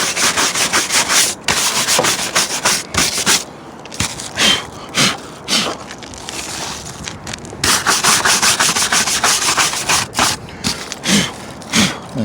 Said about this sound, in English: grab a wire brush and scrape it